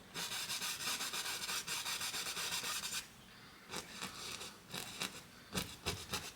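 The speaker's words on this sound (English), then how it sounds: "Just pushing some of that paint and scrubbing it sideways." Paintbrush scrubbing paint sideways across a canvas, making a close, faint, rhythmic scratchy rasp of rapid back-and-forth strokes that pauses briefly and then resumes in short bursts.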